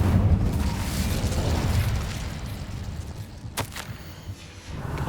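Spell effects for Descendo and Incendio in the game Hogwarts Legacy: a dense, rumbling burst of magical impact noise with booming, explosive texture, then a sharp crack near the middle and a renewed surge toward the end.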